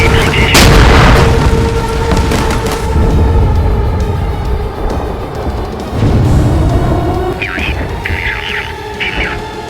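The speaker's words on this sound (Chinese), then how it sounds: "报告，敌方炮击已经开始" Enemy artillery shelling in a war setting: a heavy boom lands early, then a sustained low rumble of distant explosions and an engine drone continues, with a second thud around the middle and a high whine near the end.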